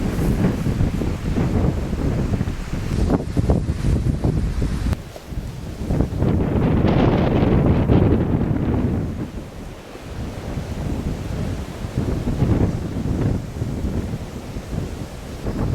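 Wind buffets the microphone over rolling surf on a North Shore beach of Prince Edward Island, a loud continuous roar with waves swelling and easing and no talk.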